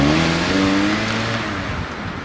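A Mazda MZ5 car accelerates away, its engine drone loud and steady at first with rising harmonic tones, then slowly fading as it pulls off into the distance.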